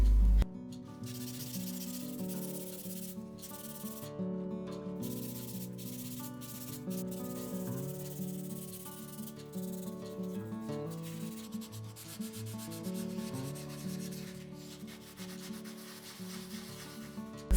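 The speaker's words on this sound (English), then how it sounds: "The low fire strengthens the pieces, so I can wet sand them to absolute perfection." Small porcelain doll parts, low-fired to strengthen them, are wet-sanded by hand in a steady scratchy rubbing that runs continuously and close, with short strokes and faint shifts in pressure and no voices.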